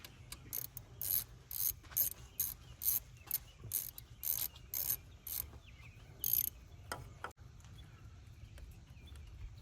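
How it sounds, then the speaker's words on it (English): A ratchet wrench loosening the 10 mm MAP sensor bolt on an L5P Duramax diesel engine, giving bursts of rapid close clicking in repeated strokes over a low steady hum, with no talking. "first step is loosen up your map sensor, 10 millimeter."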